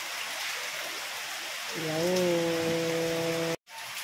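Steady hiss of rain falling, with a voice speaking over it partway through before a brief cutoff.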